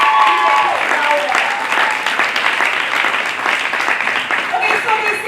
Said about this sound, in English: can you applause me better?